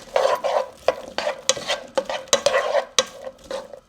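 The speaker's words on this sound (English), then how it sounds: "we're going to go ahead and drop in our 1 medium diced onion. And we are going to let this cook through until your onions are translucent" Diced onion fries in oil while a spoon stirs it around the pan, a bright continuous sizzle broken by rhythmic scraping strokes, close and loud, with no voices.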